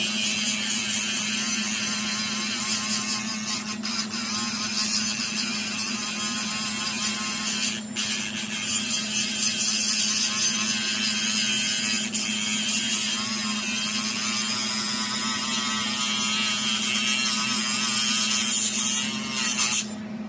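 A die grinder fitted with a burr grinds the metal of a custom VW T5 exhaust downpipe, a steady high-pitched whine and rasp that runs loud and unbroken the whole time, with no speech.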